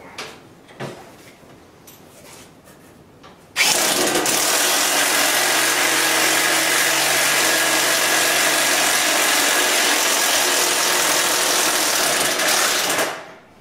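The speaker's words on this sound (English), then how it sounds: "Put that on our impact wrench. And this is a Harbor Freight special, so we'll see if it even works on that." A Harbor Freight impact wrench runs continuously at full speed for about ten seconds, a loud, steady motor whine that starts abruptly after a few light clicks and stops sharply.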